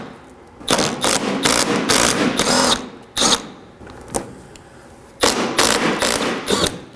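Tool bursts remove 10mm bolts from the splash shield of a 2013-2019 Nissan Sentra, several loud rapid whirring rattles in short clusters separated by pauses, close and alone without talk.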